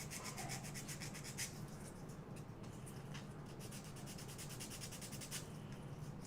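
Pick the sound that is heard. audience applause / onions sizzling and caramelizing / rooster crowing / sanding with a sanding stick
sanding with a sanding stick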